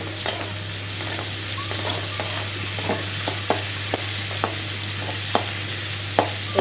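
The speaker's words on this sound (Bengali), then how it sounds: "এবার পেঁয়াজটাকে ভেজে নেব।" Onion sizzles steadily in oil in a pan, with sharp spatula scrapes and knocks at irregular intervals over a constant low electrical hum, close and clear, with no talk.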